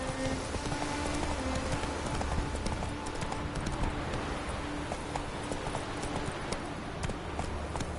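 A horse gallops in The Witcher 3: Wild Hunt, a rapid, steady clip-clop of hooves over a continuous rain-like hiss, even in level throughout.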